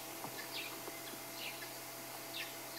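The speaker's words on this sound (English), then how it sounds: "The birds are calling. Gently, you can hear a grey-headed sparrow, chip, chip, chip." Birds call at sunrise in the Sabi Sand bush of Greater Kruger, with sparse short chirps and tweets scattered over a quiet, steady background hum and no talking.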